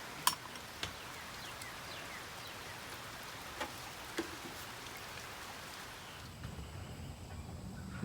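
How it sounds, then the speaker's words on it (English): Steady light rain patters over a hushed background, with a few louder drips landing now and then. "It's raining today"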